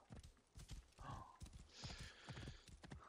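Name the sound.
horse hooves clip-clop in video game Assassin's Creed Origins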